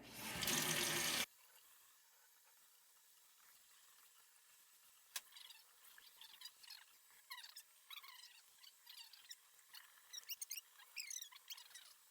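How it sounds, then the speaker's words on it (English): Tap water runs into a sink while a tie-dyed t-shirt is rinsed and wrung, beginning with a loud burst of flow, then quieter splashes, drips and squelches of wet fabric. "I'm going to start with my water on cold and just keep wringing out the t-shirt"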